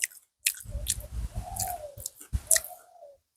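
Someone chews a mouthful of spicy cassava stir-fry up close, with a few soft wet bites and munches in short bursts separated by brief pauses.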